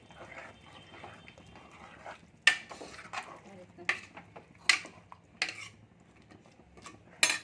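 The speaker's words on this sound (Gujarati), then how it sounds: "આ મિક્સ કરી લઈશું બધું આ રીતના ફેરવી લઈશું" Udhiyu vegetables are stirred with water in a pot, a quiet sequence of irregular metallic clinks and scrapes from a spoon against the pot, with soft talking in the background.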